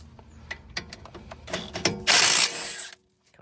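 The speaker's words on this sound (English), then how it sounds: "This is a E16, and we want to use it to take off bracket bolts." A ratchet with an E16 Torx socket works the front brake caliper bracket bolts on a 2021-2025 BMW 230i/330i/430i. Rapid close clicking runs throughout, then a louder rushing burst before everything cuts quiet.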